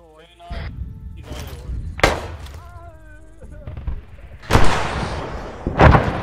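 Scattered gunshots and heavy thuds ring out in a shooter video game, loud and sharp in irregular bursts, interleaved with short bits of voice and in-game effects.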